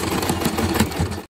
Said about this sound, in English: we're gonna go ahead and sew up that final side seam on the skirt